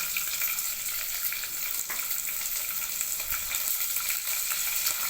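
Onions fry in hot oil for Kerala-style sambar, giving a steady, close, crackling sizzle with small pops and no talking.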